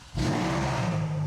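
A Ferrari F430 engine fires up at push-button start after a brief quiet moment, catching with a sharp rise and settling into a loud, steady idle rumble close by.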